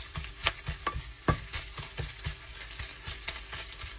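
Garlic, onion and tomato paste stir-frying in a pan for sautéed cabbage, with steady sizzling broken by repeated scraping strokes of a utensil at an uneven rhythm, close and clear, with no talking.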